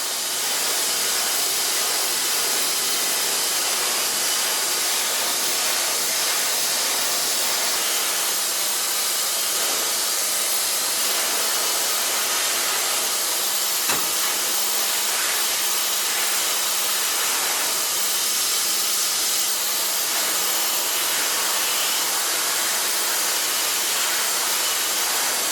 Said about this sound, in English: Take a medium brush and my beautiful blow dryer of Kammer.